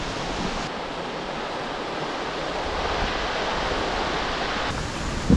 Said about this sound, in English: Following alongside the River Dee.